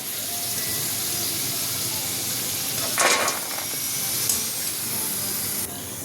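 Corn for a crispy salt-and-pepper snack fries in hot oil, giving a steady sizzling hiss with a brighter, louder burst of spitting midway before it settles back to an even sizzle.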